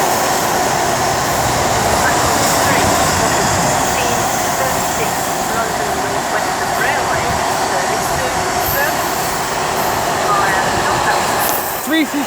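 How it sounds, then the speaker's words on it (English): A London Northwestern Railway Class 350 service rolls into Milton Keynes Central on the West Coast Main Line, a loud, steady rumble and hum of the train close by, with a voice speaking over it. "it's going to be the 1436 London Northwestern Railway service to Birmingham New Street"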